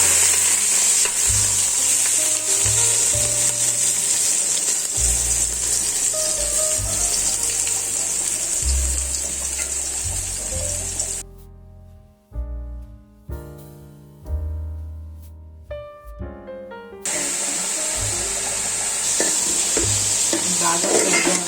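Onions frying in hot oil for an Andhra fish pulusu, with a steady sizzle broken by clattering stirs, then a brief stretch where the sizzle drops out among scattered knocks before the loud frying returns.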